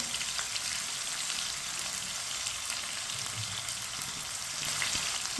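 Chopped tomatoes and green chilies fry in a pan while a spoon stirs them, giving a steady, close, even sizzle with a soft hiss that carries on alone throughout.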